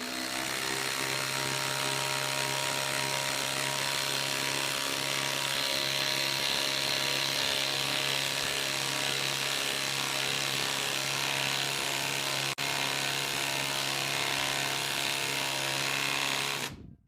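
Ryobi cordless 3/8-inch impact wrench running steadily at speed setting 3, a loud continuous mechanical whir with a hammering buzz that holds for about sixteen seconds before cutting off abruptly.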